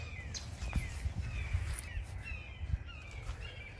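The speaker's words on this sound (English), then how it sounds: "Birds causing a ruckus." Birds cause a ruckus outdoors beside a garden bed, with scattered harsh caws and squawks rising over a low rumbling background, fairly faint and irregular, with no voices.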